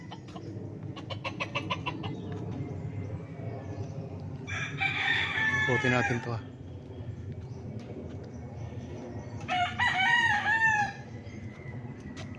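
Farm roosters crowing twice in loud, nearby bursts over a constant background of chickens clucking, on a developed farm in Nagcarlan; someone speaks briefly early on.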